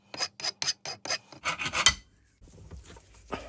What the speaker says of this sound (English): Just file a bit of that down.